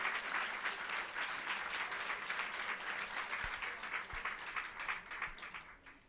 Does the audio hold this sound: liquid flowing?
no